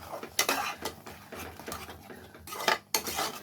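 A metal spoon stirs and scrapes mutton gravy masala with a ground green paste and tomato in a pan, giving irregular close clinks and scrapes over a soft bubbling sizzle.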